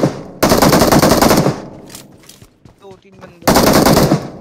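UMP submachine gun in a mobile shooter game firing in two loud sustained bursts at the start and end, with a quieter stretch between where a voice talks briefly over faint game effects.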